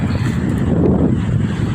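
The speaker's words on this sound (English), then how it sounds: "It'll be like this all afternoon, windy like this." Strong gusting wind during a high wind advisory with gusts near 55 mph, buffeting the microphone in a loud, continuous roar that swells slightly midway, with no talking.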